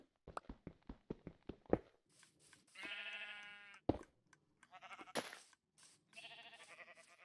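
A goat in a blocky survival video game bleats several times in short wavering calls, mixed with a quick series of sharp taps and footstep-like clicks, all close and clear with no talking.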